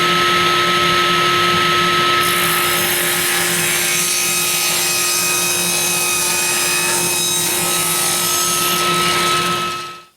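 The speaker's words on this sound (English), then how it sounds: "now we've set our fence to cut a 1-inch thickness" Table saw ripping 2x4 lumber into 1-inch-thick strips, a loud continuous whine with a steady blade tone and rough cutting noise for about ten seconds, then spinning down at the end; no voices.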